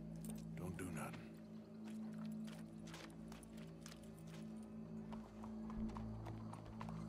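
Horse hooves clip-clop in Red Dead Redemption 2, a steady rhythmic plodding at moderate distance beneath a sustained low musical drone and game ambience, with speech-like sounds in the background.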